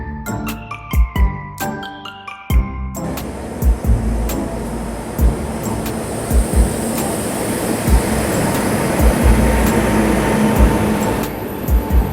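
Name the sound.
train departing Siliguri railway station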